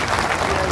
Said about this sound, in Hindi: इनका जोरदार तालियों से स्वागत करें।